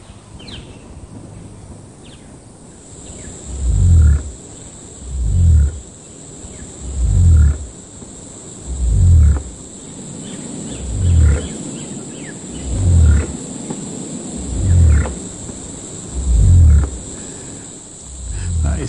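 Deep, low booming calls of a cassowary repeat about every two seconds, a steady pulsing rumble over a background of insects and distant birds.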